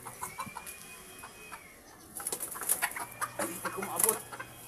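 Native labuyo chickens cluck in short, scattered bursts near their laying area on the ground, louder in the second half, while someone speaks briefly.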